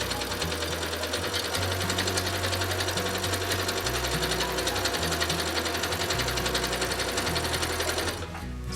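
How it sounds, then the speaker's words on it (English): A sewing machine stitches fabric in a steady, loud, rapid mechanical rhythm, with slight speed shifts as it runs continuously before stopping near the end. "do some back stitches to back tack, and then go ahead and sew"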